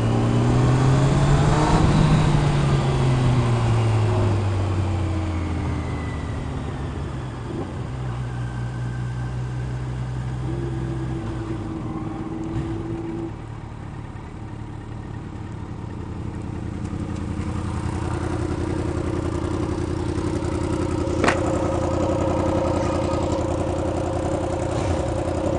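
A 2016 Yamaha R1 motorcycle runs during a ride, its engine droning steadily at mid pitch with slow rises and falls in revs, close and continuous for the whole stretch with no talking.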